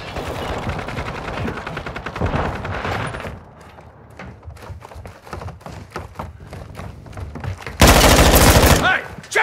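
Rapid automatic gunfire in a Call of Duty: Modern Warfare II team deathmatch, loud close bursts with scattered single shots and a heavy final burst over steady battle noise.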